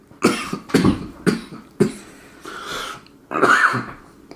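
A fit of harsh, close coughs, about six in an uneven run, with a rougher, drawn-out hack at the end.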